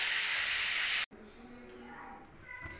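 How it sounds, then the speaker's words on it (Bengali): Spices sautéing for doi fish give a loud steady sizzling hiss that cuts off suddenly, followed by quieter frying crackle with faint kitchen movement. "এখানে মশলা কষাচ্ছি আমি দুই মাছের জন্যে।"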